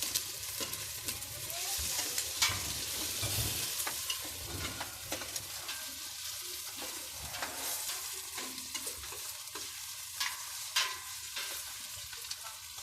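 Tomatoes being stirred and sautéed in a pan for Filipino mung bean stew (ginisang monggo), a steady close sizzle with scraping stir strokes throughout and no talk.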